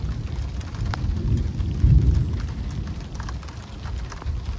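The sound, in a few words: thunder during a storm in Normandy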